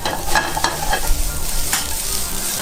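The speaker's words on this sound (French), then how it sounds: "On met une poêle sur le feu, on va mettre une noisette de beurre." A knob of butter melts and sizzles in a frying pan on the stove before green beans go in, a steady close hiss with a few soft scraping clicks and no talking.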